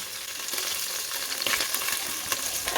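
Onion sautéing in hot oil with ginger-garlic paste for a beef bone soup: a loud, close sizzle with bursts of spatula stirring and scraping, no voices.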